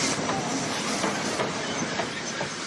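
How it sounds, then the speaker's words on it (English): A train rolls into a railway yard with a steady broadband rumble and hiss of wheels on track, faint clickety-clack under a continuous wash of noise, no voices. "A special train arrived one day"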